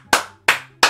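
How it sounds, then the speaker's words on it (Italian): Three separate, sharp claps ring out alone at an even, unhurried rhythm, each one loud and close with a quick decay. "Un applauso!"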